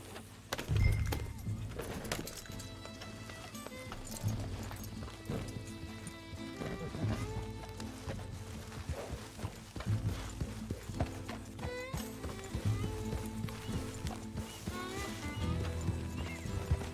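Steady clip-clop of horse hooves in Red Dead Redemption 2 over a busy game soundtrack with music and ambient effects, the hoofbeats continuing throughout.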